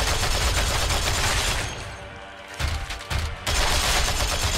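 Dense, loud bursts of sustained gunfire in the video game Warhammer 40,000: Regicide, a continuous roaring fusillade that briefly drops away, then surges back in short volleys.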